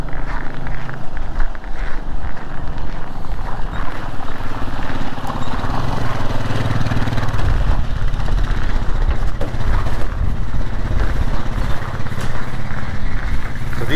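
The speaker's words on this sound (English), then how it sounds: "we use our four-wheeler and a little wagon we pull behind it" A four-wheeler ATV pulls a small wagon carrying dairy calves from the barn to the hutches, its engine chugging loudly and steadily close by, with faint rattling and some voices underneath.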